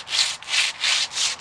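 A hickory longbow is sanded by hand with 80 grit sandpaper, four rhythmic rasping strokes close up and alone.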